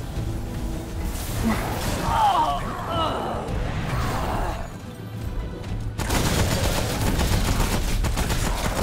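Rapid bursts of gunfire in the game Remnant: From the Ashes crackle over mechanical clatter and whooshes, loud and close, with a voice speaking at times underneath.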